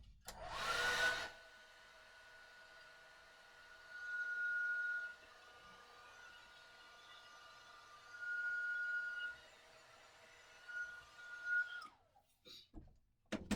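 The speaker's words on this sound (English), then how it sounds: "So you guys will have to deal with the vacuum noise." A shop vacuum runs in a workshop during a build, a steady whining drone with a sustained tone that swells louder in a few stretches, then cuts off near the end followed by handling clatter.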